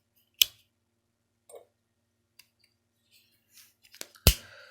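Sparse, quiet metallic clicks and snaps of small multitool scissors being handled, with a sharper click at the start and another near the end.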